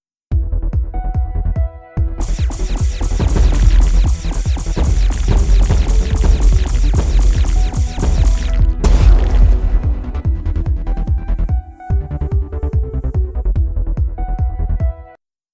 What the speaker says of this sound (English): Now the explosions are still bright and snappy, but the player's weapons and the background music are not so overwhelming